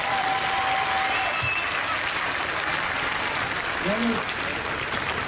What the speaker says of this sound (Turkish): Şöyle ben sizden kendinizi kuvvetli bir alkışlar mısınız lütfen?